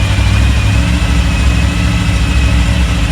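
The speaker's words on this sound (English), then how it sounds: "So you give it some RPM," A 1940 Ford COE truck engine, fitted to a custom rollback with a coolant-flow problem, revs up and holds a loud, steady, deep drone from start to finish, close by with no voices.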